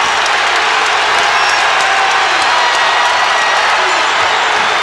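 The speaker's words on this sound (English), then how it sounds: "the crowd doing what they can to help the Hoosiers" A loud, roaring basketball arena crowd cheers and applauds for the Indiana Hoosiers in a game against Northwestern, a continuous wall of noise with a commentator's voice faintly running beneath.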